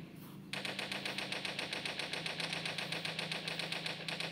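Rapid automatic gunfire from the Toilet Monster hide-and-seek video game, a dense continuous burst of evenly spaced shots that starts abruptly and runs steadily to the end, loud and alone.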